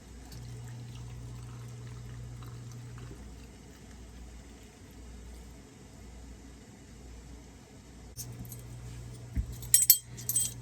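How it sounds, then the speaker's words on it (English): Hot water pours steadily into glass jars of green beans for canning with a soft, continuous rush, followed near the end by light clinks and rattles of glass. "I'm going to add my hot water."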